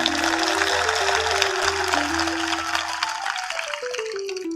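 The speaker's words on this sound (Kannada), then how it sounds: "ಒಂದು ಚಪ್ಪಾಳೆ ತಟ್ರಿ ಅವ್ರಿಗೆ." A crowd at a village gathering claps for the elders in sustained, even applause with a low tonal hum running underneath.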